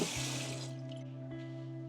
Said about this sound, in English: Let the water get drained out completely, then it will get a little bit dry.